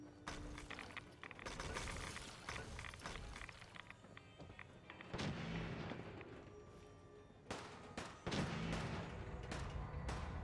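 Gunfire in the Fallout 4 game, dense crackling bursts of shots and booming impacts, loud and continuous with several sharp cracks, no voices.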